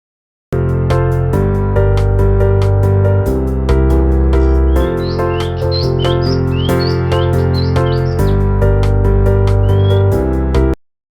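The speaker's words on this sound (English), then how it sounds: "Myna." A myna sings a series of short whistled chirps and upward-sliding notes over loud, steady music, rising briefly above the backing rather than standing alone.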